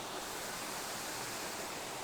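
Steady broadband rush of a stream running down from a waterfall basin through rocks, continuous and fairly close with no voices over it.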